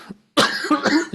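A speaker in a Buddhist sutra lecture coughs: one strong, close cough followed by a couple of rougher bursts, after a brief faint sound and a short silence.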